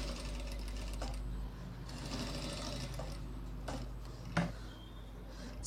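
A sewing machine stitches a designer blouse at the shoulder joint. The motor gives off a continuous low hum, broken by several sharp mechanical ticks and clicks as the needle moves. The sound is close and quiet, with no talking.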